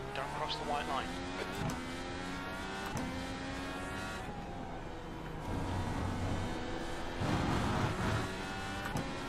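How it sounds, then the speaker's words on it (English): An IndyCar in the iRacing simulator near the pit lane at Road America, its engine droning with steady high-pitched harmonics that rise and shift as another car comes closer, heard under continuous talking. "There's a car approaching."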